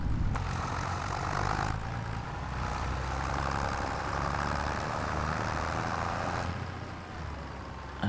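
A slow tractor in Farming Simulator 25 drones with a steady, low engine rumble that holds an even level throughout, with no talking over it.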